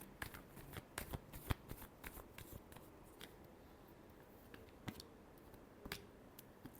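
Tarot cards get a final shuffle close by, a quiet run of soft riffles and sharp flicks in uneven bursts over a faint background hiss.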